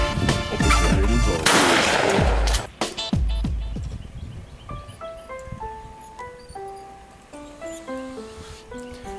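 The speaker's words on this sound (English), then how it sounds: "proper safety things to shoot shotgun" Shotgun blasts at an outdoor shooting range, a quick run of loud close reports with sharp decays early on, followed by quieter, scattered tonal sounds.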